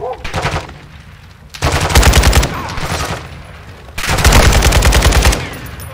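Sustained automatic gunfire from a Modern Warfare 2 video game battle, loud bursts of rapid shots in two long stretches with a brief lull between, a faint voice now and then underneath.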